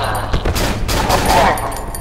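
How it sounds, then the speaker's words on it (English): A shotgun fires in the game Cry of Fear, a loud, dense blast filling the moment with heavy gunfire noise. "maybe I should be using my shotgun on them"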